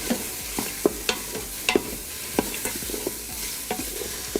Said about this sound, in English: And then mix it up a little bit. So you'll cook the vegetables for about 6 minutes or so.